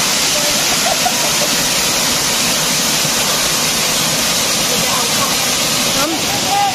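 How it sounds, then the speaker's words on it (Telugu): Raikal waterfall roaring steadily, a loud, unbroken rush of falling water that fills the scene throughout, with no break. "ఇదంతా వాటర్ ఫాలే"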